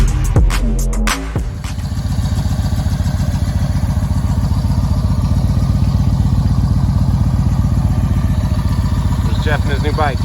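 A motorcycle engine runs steadily at close range with a loud, even pulsing idle-to-cruise rumble, after a few brief bursts of sound at the start, on a ride up toward a ski resort.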